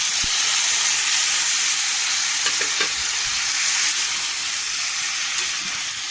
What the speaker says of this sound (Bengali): তো দেখো আমি কাঁকড়া লাউ তেলের উপরে ঢেলে দেওয়া হলো।